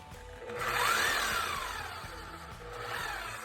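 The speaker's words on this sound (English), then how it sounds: "Switch to roto hammer." A Bosch 11264EVS rotary hammer runs in rotary hammer mode after a rebuild, giving a steady mechanical drone with rapid repetitive impacts and a whining tone that rises and falls, close and moderately loud.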